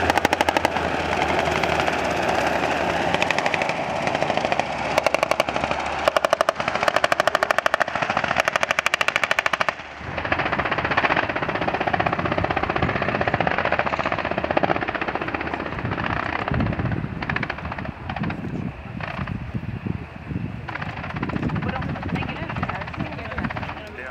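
At a military air show, two helicopters thump overhead through a loud, dense roar while bursts of machine gun fire rattle repeatedly across the scene.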